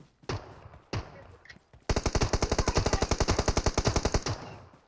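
Automatic gunfire from a PUBG Mobile match: a few isolated shots, then a long rapid burst of evenly spaced, loud, sharp reports lasting over two seconds before cutting off.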